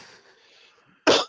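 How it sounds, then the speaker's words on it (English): One sharp, loud cough from a podcast host with a lingering cough, bursting close to the mic after a stretch of quiet room noise. "I'm about to go take fucking codeine to stop this cough"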